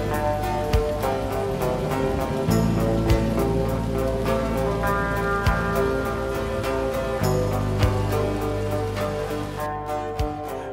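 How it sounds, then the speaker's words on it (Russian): Rain falls during a thunderstorm at night in a mountain gorge, a dense, continuous patter with sharper drops striking nearby surfaces at irregular moments. "Пошел дождь и разразилась сильная гроза."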